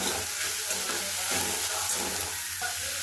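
Chopped vegetables for momo filling sauté in hot oil, a continuous even sizzle heard up close for a few seconds with no talking.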